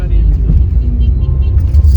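Steady road traffic with car engines rumbling low and continuous, heard from a vehicle moving through busy city streets, with a voice talking over it.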